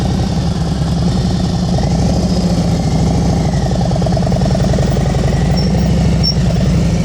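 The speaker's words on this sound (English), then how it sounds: "And your RPMs are too low. Listen to that bike." A motorcycle engine idles at low RPM during slow-speed riding practice in California, a steady, loud, close rumble with an even pulsing beat that carries on unbroken throughout.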